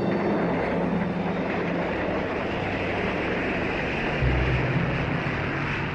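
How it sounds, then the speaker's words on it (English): A train rolls past, a steady heavy rumble with a faint rhythmic clatter of wheels on rails. It stays loud and continuous throughout, and the low end swells slightly near the end. "steam engines."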